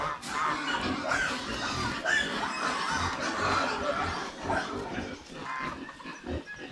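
Pigs in a newly finished, roomier hut-style pen on a farm, snorting and grunting steadily and fairly close throughout, with a few faint clucks from fowl mixed in.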